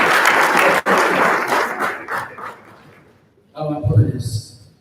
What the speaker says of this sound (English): Please give me double applause